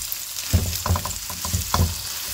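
Chicken mince with ginger garlic paste fries in a pan with a bright sizzle, broken by a few thick stirring pushes in quick clusters, close and moderately loud, with no talking.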